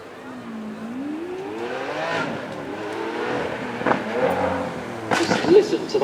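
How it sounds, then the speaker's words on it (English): Lamborghini Aventador S with its V12 engine revving at a supercar weekend, a rising and falling engine tone with speech over it and sharper bursts near the end. "Just listen to that V12 sing."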